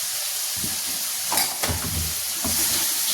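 Green chilies stirred and fried in a pan, a close steady sizzle broken by a few scraping stirs of a spoon, with a brief louder burst of crackling near the middle.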